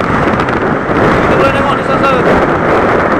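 Strong wind buffets the microphone at the end of a jetty during extreme weather with rough waves, a steady broadband roar that runs the whole time beneath someone talking close by.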